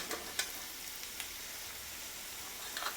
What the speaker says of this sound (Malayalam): ചുവന്നുള്ളി, ഇഞ്ചി എല്ലാം കൂട്ടി ചേർത്ത് ചെറുതായിട്ട് വഴറ്റിയെടുക്കുക.